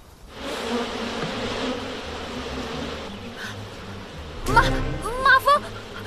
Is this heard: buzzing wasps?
yes